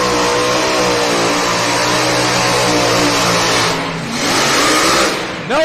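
Pulling tractor at a truck and tractor pull, a loud, close engine revving steadily with rich harmonic drone, briefly dipping then surging again near the end.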